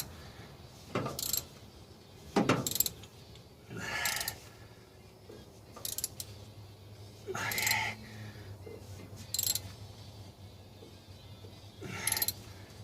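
A ratchet tightening a spark plug on a 1977 GMC pickup, heard as several short bursts of close ratcheting clicks separated by pauses, with a faint low hum underneath.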